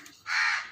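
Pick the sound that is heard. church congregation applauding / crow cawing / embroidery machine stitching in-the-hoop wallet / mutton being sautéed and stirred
crow cawing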